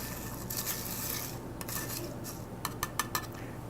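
A spoon stirs mint leaves through crushed ice in a mint julep, making a steady soft scraping and rustling with light metallic clinks, then several sharp taps of metal against the glass near the end.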